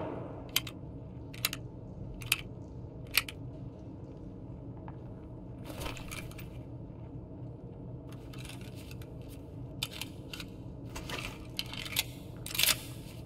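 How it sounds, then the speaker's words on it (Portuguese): Rounds of ammunition are loaded one by one into a box in Escape from Tarkov, giving a string of crisp metallic clicks at uneven intervals that bunch into quick runs toward the end. "encher uma caixa com a munição que eu preciso"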